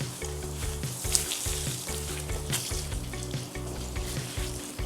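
Water from a hose rushing and splashing inside a water tank during a rinse-out, a steady broadband hiss with uneven low rumbling pulses throughout.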